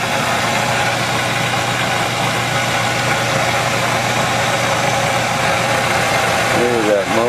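A motor-generator set with an alternator runs steadily after ignition, its engine holding a loud, continuous droning idle with constant vibration throughout.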